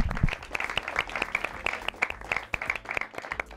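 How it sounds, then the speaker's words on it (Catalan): An audience at a school spelling quiz contest breaks into a dense round of clapping, many hands sounding at once in a steady, lively patter that carries through without pause. "Ara sí que aplaudeixo."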